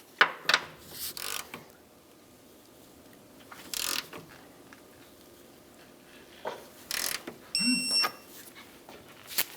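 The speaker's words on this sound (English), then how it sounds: "we can go ahead and torque each of these bolts to 59 foot-pounds" A torque wrench tightens the torque strut engine mount bolts on a 2010-2013 Nissan Versa, giving several short separate bursts of ratcheting and metallic clicks against quiet background, ending with a sharp beep-like ring.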